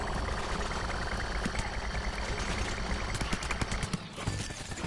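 Butter barrage attack in Plants vs Zombies Garden Warfare 2 pounds down as a dense, rapid fusillade of impacts and bursts, loud and close, rolling continuously for several seconds amid game noise.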